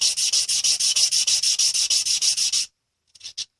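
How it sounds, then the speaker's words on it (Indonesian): Rapid rhythmic rasping of sandpaper on a stainless steel name necklace, about a dozen even strokes close and loud, then a pause and a couple of short final rubs. "Kita amplas lagi supaya lebih"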